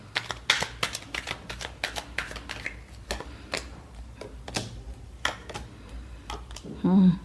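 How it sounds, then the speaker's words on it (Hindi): Tarot cards being shuffled in a rapid series of crisp riffling flicks and taps, close and fairly clear, with quiet background hum and a brief louder rustle near the end. "last shuffle,"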